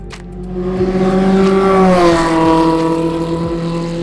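Formula Renault race car on a circuit, a loud, close engine note climbing in pitch under acceleration, then dropping at a gear shift and climbing again.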